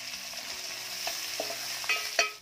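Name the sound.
chopped onion frying with garlic in a pan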